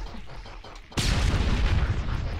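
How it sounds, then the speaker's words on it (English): Grenades burst during a VRChat capture-the-flag match: after a second of muffled rumble, a sharp loud blast hits and a dense wash of further booms and crackling explosions keeps rolling close by. "The grenades are going off everywhere."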